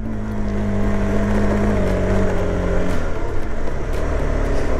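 A KTM 390 motorcycle engine runs steadily under constant throttle, a loud continuous drone with low harmonics that wavers slightly without climbing in pitch, heard close and alone with no talking.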